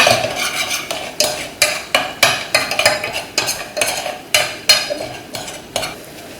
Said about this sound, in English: And I'll just give this a bit more fry.